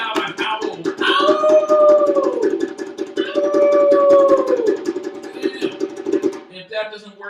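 Several people let out long, loud wolf-like howls in a group drum, music and voice jam, two sustained rising-and-falling calls over a busy, noisy background, with voices imitating the howl of a wolf.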